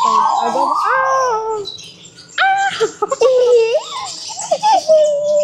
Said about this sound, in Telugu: ఇంకొక చిన్న బేబీ బర్డ్ ఉంది కదా